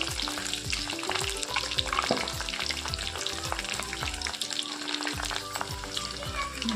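Mushrooms for mushroom Manchurian crackling as they deep-fry in oil, a loud, busy, continuous sizzle with scattered pops and clinks of stirring, close by and without talking.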